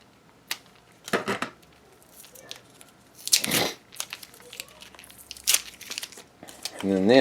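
Stickers peeled off a plastic plumbing fitting with crinkling, tearing rips in several separate bursts, up close, and someone talking around them.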